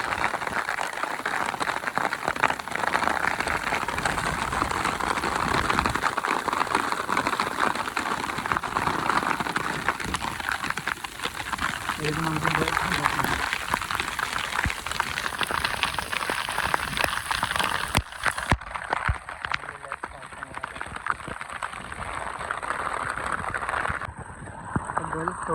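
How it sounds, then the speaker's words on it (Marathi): Heavy rain pouring down on an open farm field, a dense continuous hiss of drops that carries on under occasional nearby speech, then thins out near the end. "पाऊस तर खूप आला"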